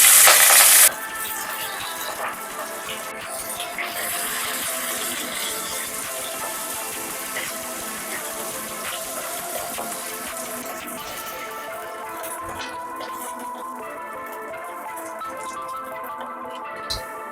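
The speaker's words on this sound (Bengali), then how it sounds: "প্রথমে আমি এই নুন হলুদ মেখে রাখা কাটা ভেজে নেব।" Salt-and-turmeric-rubbed clown knife fish bones and skin fry in mustard oil, opening with a loud hissing splash as they go in, then settling into a steady, softer crackling sizzle with occasional pops, no talk.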